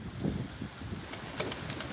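Pigeons coo softly and repeatedly nearby, low rounded calls rising and falling against light wind noise.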